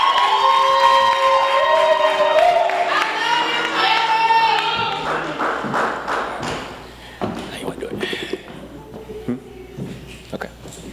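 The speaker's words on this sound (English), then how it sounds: "Ladies and gentlemen, give it up for Queen, the poetess." A live audience cheers and applauds loudly at a High Tea event as a performer named Queen, the poetess, is introduced. Shouts rise over sustained clapping, then the noise fades into scattered claps and voices.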